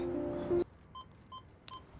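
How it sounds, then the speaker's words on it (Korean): A telephone number is dialed on a keypad, a few short touch-tone beeps spaced out after a brief louder tone, faint and close, with no voices. "미호는 그날 밤 토키지로에게 전화를 걸게 되고"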